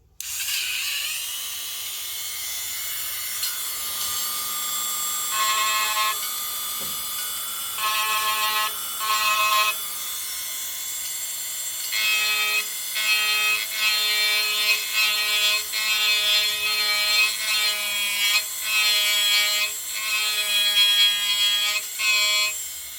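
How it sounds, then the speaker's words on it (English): Handheld grinder carving a notch into a wooden wand, a whining high-pitched grind that starts and stops in bursts, then settles into longer runs of buzzing cutting with brief pauses, close and loud, with no talk. "You have to keep the grinder moving because it gets hot and it burns the wood."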